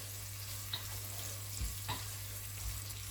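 Onions frying in a pan for a Cameroonian kondre, a steady soft sizzle with a constant low hum beneath, interrupted by a few light scrapes of stirring.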